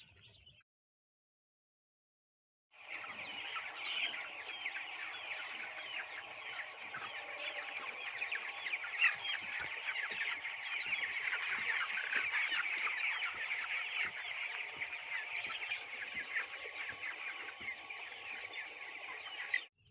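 A flock of broiler chickens clucks and chatters continuously in a poultry shed, a dense, steady murmur of many birds close by after a brief silent start, with no voices.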